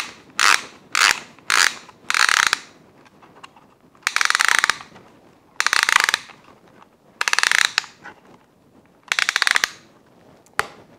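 A First Strike paintball magazine spring is wound in a series of crisp ratcheting clicks that come in short bursts separated by pauses, close and clear.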